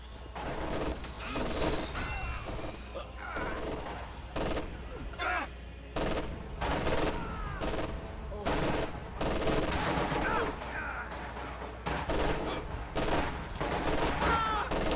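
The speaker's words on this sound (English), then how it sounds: "Deal with those machine guns, Commander!" Machine-gun fire in the World War II strategy game Company of Heroes 2, sharp repeated bursts and volleys of gunshots coming steadily across the whole stretch over a low rumbling battle backdrop.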